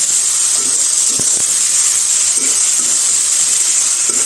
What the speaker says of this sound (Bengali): ভালোভাবে কষাবো একটু